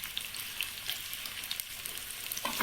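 Finely chopped onions lightly fry in oil in a pan, giving a soft, steady sizzle with scattered small pops and crackles.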